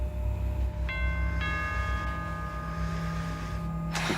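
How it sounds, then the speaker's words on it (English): A bell rings in a house, two clear ringing strikes that sustain and fade slowly over a low background hum, alone with no talk. "Looks like I'm saved by the bell."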